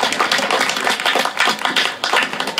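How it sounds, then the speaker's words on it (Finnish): Dense applause from a crowd at a summer season opening event in Heinola, many hands clapping at once in a continuous loud patter with no voices on top. "Aplodit."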